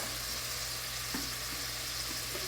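Water goes into a pan of sautéed onions, setting off a steady, broad sizzle and frying hiss that runs evenly throughout, with a few faint clicks of a utensil.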